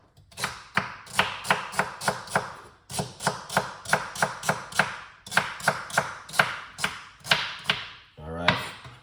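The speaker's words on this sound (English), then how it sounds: "So we're gonna cut up some celery." Celery stalks are chopped with a knife on a cutting board in quick rhythmic runs of sharp, crisp thuds, close and clear, pausing briefly between bursts before a final scrape.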